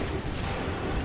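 A volley of musket fire from massed soldiers in Assassin's Creed III, a dense crackling burst of overlapping shots that fills the whole moment, loud and close with no talk over it.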